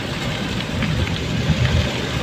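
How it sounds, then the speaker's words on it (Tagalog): Heavy rain pours steadily in Baguio in a dense, constant wash, with low rumbling underneath and no voices. "Grabe, ang lakas ng ulan dito."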